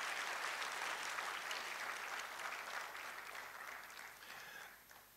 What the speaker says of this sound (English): So let's clap for the Komfanochi guys.